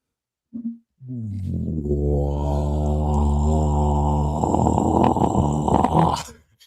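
A human voice imitates an alligator's bellow with a long, deep, rumbling groan that swells and then breaks off, after a brief low grunt.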